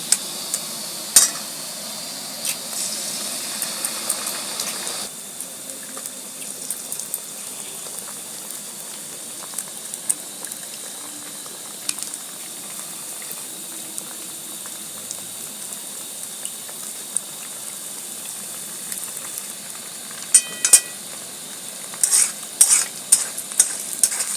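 Four eggs cracked into a pan of browning onions for egg tadka, a steady close sizzle with a few sharp clicks and taps toward the end, no voices.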